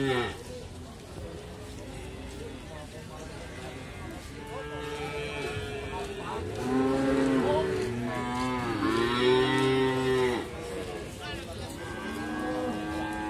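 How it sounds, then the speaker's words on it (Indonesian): Male calves and cattle at the Ambar Ketawang livestock market in Yogyakarta, several loud overlapping moos rising over a noisy crowd, with people talking nearby. "Ini adalah pedetan-pedetan jantan."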